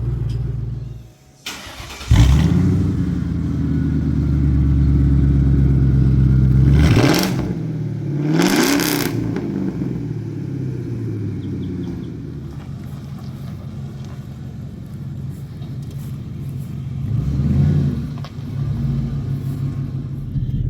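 A car fitted with a cheap aftermarket exhaust pulls out and drives on a street, engine droning loud and close with a couple of sharp revs rising and falling midway and another surge near the end.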